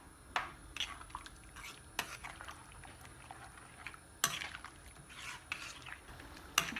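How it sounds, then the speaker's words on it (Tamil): A ladle stirs sambar in a pot, giving scattered metallic clinks and scrapes against the pot amid soft liquid sloshing, close and moderately quiet. "கரண்டியால் இப்படி மிக்ஸ் பண்ணிக்கோங்க."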